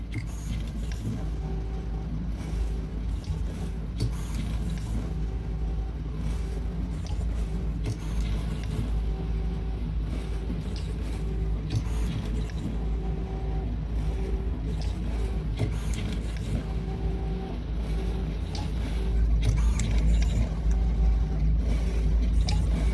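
Pick-and-place machine at an audio electronics factory setting components onto solder-paste boards, a steady mechanical whir and hum with faint repeated tonal beeps throughout, continuous and moderately loud with no speech.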